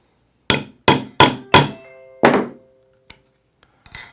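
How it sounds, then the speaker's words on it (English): Sharp metal hammer blows striking a snap setter seated between the spring bars on a 12.5 post: four loud, evenly spaced thunks, then a fifth with a short ringing tail, followed by a faint tap and one lighter knock. "make sure your setter goes between the spring bars before you start pounding on it"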